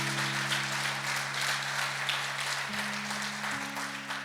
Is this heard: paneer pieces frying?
no